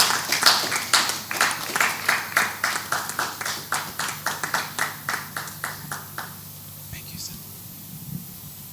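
An audience claps together in a steady, dense burst of applause lasting about six seconds, then it thins out and stops, leaving a quiet room with faint murmuring.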